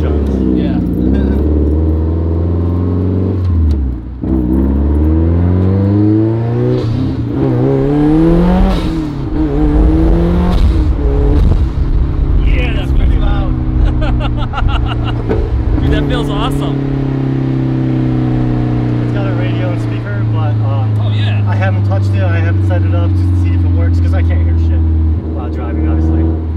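A Factory Five 818 S kit car accelerates hard through the gears, its engine note sweeping up and dropping at each shift, loud and close from inside the cabin while passengers talk and exclaim over it.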